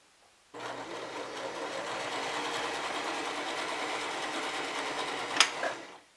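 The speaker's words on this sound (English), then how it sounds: "all I'm going to do is feed this under here and zigzag the ends" A sewing machine runs steadily, stitching a zigzag along the ends of a fabric headband in one continuous whirring burst of about five seconds, with a brief click near the end and no talk.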